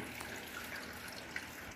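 Water leaking from the worn gland packing of a fire pump, a steady close hiss of spraying and trickling water running alone without a break.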